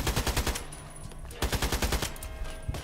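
Automatic rifle fire in the online shooter Contract Wars, several rapid bursts of shots in quick rhythm with short pauses between, crisp and near.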